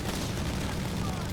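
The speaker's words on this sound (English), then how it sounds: "We got 2 30 cal teams letting loose here" Two .30 cal machine gun teams fire in a Company of Heroes 3 battle, making a dense, continuous rattle of gunfire mixed with low rumbling battle noise that fills the whole short stretch without pause.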